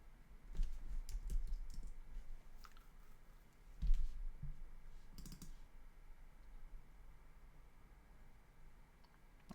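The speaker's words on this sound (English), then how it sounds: "I'm just clicking randomly" Rapid, irregular computer mouse clicks during an online geography guessing game, close and fairly quiet, in scattered bursts with a slightly louder cluster near the middle, no voices.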